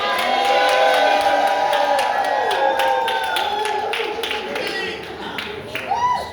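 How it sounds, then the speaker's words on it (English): A crowd at a housing lobbying day claps and cheers loudly, with whoops and shouts over steady applause that tapers slightly toward the end. "let's give her a round of applause"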